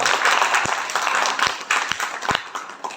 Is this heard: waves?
no